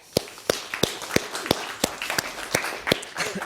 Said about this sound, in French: encore on applaudit